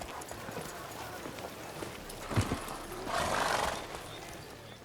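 Horse hooves clip-clop at a gallop in The Witcher 3, a steady rhythmic pounding mixed with ambient game sound and swelling noise, while characters speak over it.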